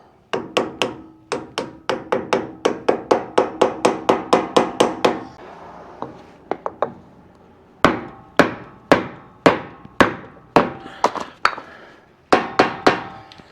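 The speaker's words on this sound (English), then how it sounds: "We're gonna get it lined up on here and then we're just gonna tap it in." A pressure-fit Bearing Buddy cap being hammered onto a boat trailer hub, made up of quick bursts of sharp metallic taps followed by spaced single strikes, close and loud with short pauses between runs.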